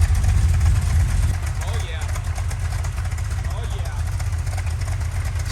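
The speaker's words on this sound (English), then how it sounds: "Still running the engine" Hot rod engine idles steadily as it warms up in a workshop, a constant low rumble throughout, with people talking over it.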